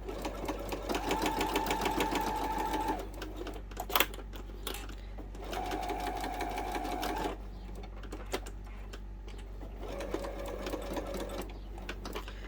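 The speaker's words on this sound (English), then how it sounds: "just using our top stitch length with the needle in the down position" A sewing machine top stitching a fabric wallet at a steady clatter with the needle stopping down between runs, several short bursts of stitching separated by pauses, close and alone over a low hum.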